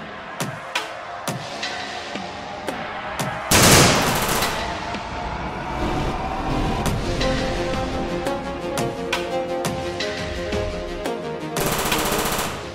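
Loud bursts of gunfire, single sharp shots followed by heavy rapid volleys, close and echoing, made as a sound effect.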